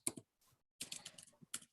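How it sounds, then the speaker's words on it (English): Someone types a question into an online chat on a computer keyboard, in short bursts of quick key clicks separated by brief pauses, fairly close and quiet. "I am typing a question into the chat"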